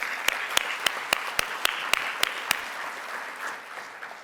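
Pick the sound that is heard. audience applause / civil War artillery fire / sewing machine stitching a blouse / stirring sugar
audience applause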